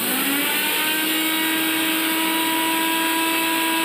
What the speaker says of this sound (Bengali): এরপর মিক্সির মধ্যে কালো জিরে আর কাঁচা লঙ্কা যে আমরা শুকনো খোলায় ভেজে রেখেছিলাম সেগুলোকে দিয়ে মিক্সিতে